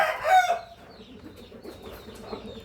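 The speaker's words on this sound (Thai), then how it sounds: "ไก่หนุ่มนะครับ" Young Burmese gamecock rooster gives a short, loud crow-like call at the start, followed by softer clucking and faint bird sounds nearby.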